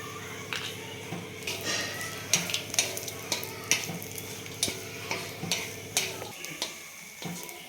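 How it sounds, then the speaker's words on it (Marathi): Coconut roasting in a little oil in a pan, a soft steady sizzle broken by regular scraping stirs of a spatula, close and rhythmic, fading quieter toward the end. "कमी तेलामध्येच भाजायचं आहे तर सगळ्यात अगोदर आपण याच्यामध्ये खोबरं भाजून घेणार आहे"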